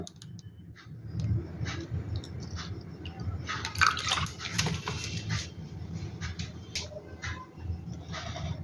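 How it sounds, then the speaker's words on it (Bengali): Water poured into a chilli chicken mixture with tomato sauce, pepper and sugar, a faint trickling, dripping pour that swells and then tapers off, quiet and close. "আর দিয়ে দেব জল"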